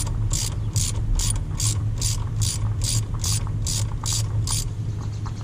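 Ratchet wrench clicking steadily in a rapid repeating rhythm while loosening bolts on the intake horn of a Dodge Ram 2500 with a 5.9L 24-valve Cummins diesel, close and loud over a low steady hum.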